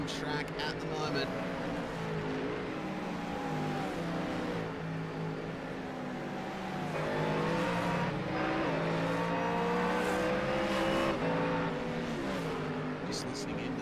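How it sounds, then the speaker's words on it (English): GT3 race cars at the Bathurst 12 Hour, engines droning and shifting pitch as several cars pass by across the top of the circuit, a continuous layered roar from mid-distance with talk over it. "Just listening into the sights and the sounds of cars coming across the top."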